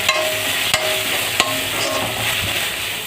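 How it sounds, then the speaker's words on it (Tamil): Onions frying in a pan with ginger garlic paste for cabbage kofta, a steady close sizzle that fills the whole stretch, with occasional sharp knocks of a spoon against the pan. "பார்த்திங்கன்னா ஆனியன் நல்லா ஃப்ரை ஆயிடுச்சு"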